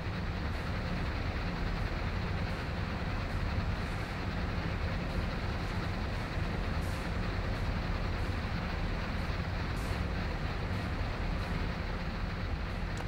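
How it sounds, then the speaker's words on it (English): A train rumbling along the line at Horseshoe Curve in Train Sim World 2, a steady low droning roar that holds constant throughout with faint rhythmic clicks, heard alone without voices. "we've got to wait for this train to come down by the looks of things"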